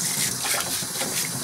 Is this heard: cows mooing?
no